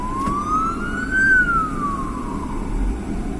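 An emergency vehicle siren wails past on the road, a single rising and falling tone riding over steady traffic rumble, loud and fairly close.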